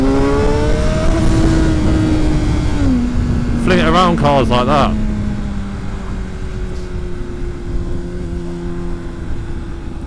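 A Honda 600RR motorcycle with a Yoshimura exhaust revs high and then drops through a gear change, settling into a steadier drone, under continuous close speech from the rider.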